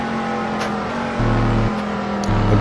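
A NASCAR stock car in a racing video game, engine revving hard in fifth gear on a straight of the Qatar circuit, a loud buzzing drone stepping up in pitch twice.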